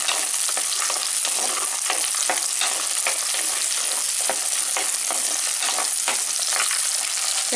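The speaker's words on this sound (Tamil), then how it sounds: "வெங்காயத்தையும் பூண்டையும் நல்லா எண்ணெயில் கொஞ்சம் நேரம் வதக்கிக்கலாம்." Onions and garlic fry and sizzle in hot oil for a curry, with a steady dense crackle and repeated stirring scrapes throughout, close and continuous with no voices.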